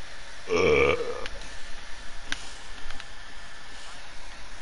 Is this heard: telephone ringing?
no